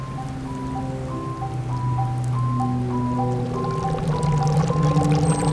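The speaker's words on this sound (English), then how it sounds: "when we add the solid carbon dioxide to this conical flask, then what happens is it goes from solid CO2 into the gaseous phase, and so we can see some bubbling" Dry ice dropped into warm water with blue dye in a conical flask bubbles and gurgles continuously, a dense steady fizzing with faint tonal hums underneath, no voices.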